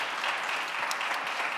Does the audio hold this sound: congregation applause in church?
yes